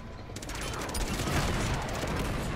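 Rapid gunfire aimed at a tank in the video game Uncharted 2 rattles as a dense, continuous burst of shots over a noisy battle background.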